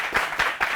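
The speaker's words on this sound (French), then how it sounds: "Est-ce qu'on peut l'applaudir?" A classroom group claps for a student, three quick rhythmic bursts of hand claps, moderately loud and close, with no talking over them.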